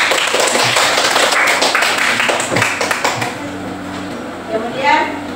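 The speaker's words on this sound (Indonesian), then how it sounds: "Coba tepuk tangan dulu." Children clap their hands in a classroom, a brisk, dense patter of many hands that fades after a couple of seconds as a voice talks over the room.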